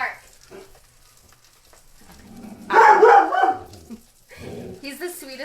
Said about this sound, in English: Hey! No bark. Roll it. No bark. No bark. Go lay down.